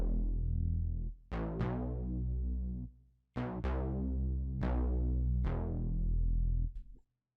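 Slap house bass preset played on a Serum synth: a few punchy plucked bass notes with bright attacks and decaying tails, rhythmic with short gaps, clear and alone.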